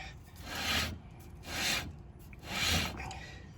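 A Triumph TR6 brake drum rubs as the wheel is turned by hand, giving three slow, raspy scraping sweeps about a second apart, close and moderately quiet with no talking.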